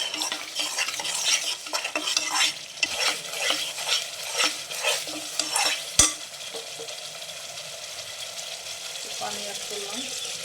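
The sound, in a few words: stirring and frying spices with bay leaves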